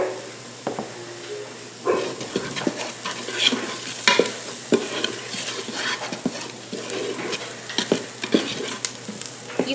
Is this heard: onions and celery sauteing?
yes